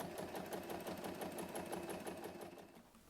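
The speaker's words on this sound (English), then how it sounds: "Close the turning gap by machine stitching close to the edge" A sewing machine runs steadily, stitching close to the edge to close the turning gap of a small fabric pocket pouch, its needle pulsing in a fast, even rhythm throughout, close and alone.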